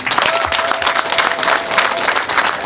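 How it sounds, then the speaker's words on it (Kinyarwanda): A crowd at a public gathering in Musanze claps loudly and continuously, a dense, bright wash of applause throughout; any ululation is not distinct within the clapping. "tumuhe amashyi n'impundu nyinshi."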